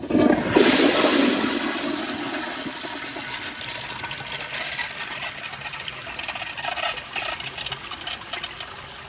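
A 2015 Kohler Highcrest toilet flushes three microfiber cloths, with a loud initial rush of water followed by steady swirling and gurgling drainage that fades gradually, no voices.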